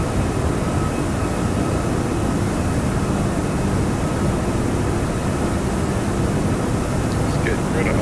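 Toliss A340-600 airliner climbing out after takeoff in X-Plane 12, a steady, loud broadband engine roar that holds constant throughout with no pauses.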